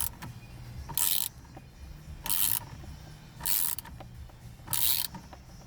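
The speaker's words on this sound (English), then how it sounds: "you're gonna take your extension with your number 10 socket and tighten it" A ratchet with an extension and 10 mm socket snugs down a bolt during a paddle shifter install on a 2015 Nissan 370Z, giving four short bursts of clicking spaced about a second apart over a low background hum.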